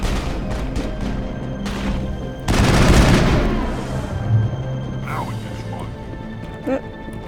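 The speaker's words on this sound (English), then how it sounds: "Did someone shoot us from behind" Gunfire in a Mass Effect combat scene: a dense, loud burst of shots and impacts under a tense game soundtrack, with a player talking over it.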